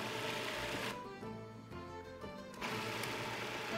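A kitchen blender pulses a mix of recipe ingredients for a snack in one buzzing, whirring burst of about two seconds, heard close with quieter room sound before and after.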